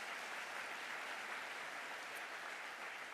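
Faint, distant applause from an audience at the National Safer Communities Summit, a steady wash of clapping held at an even level with no talk over it.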